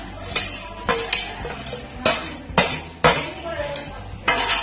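A metal spoon stirs a thick peanut and jaggery mixture in a pot, giving repeated scraping strokes and sharp clinks against the rim at a steady, unhurried rhythm.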